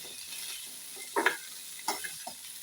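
Green gram sundal is stirred and mixed in a pan, giving a faint background hiss and a few short metallic scrapes and clinks from the spoon against the pan.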